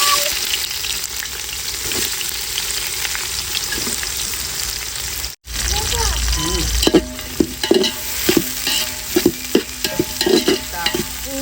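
Cinnamon, cloves, cardamom and onion fry in hot oil for country chicken biryani, a steady sizzle that turns busier as repeated stirring scrapes and clinks join in the second half, with no talking.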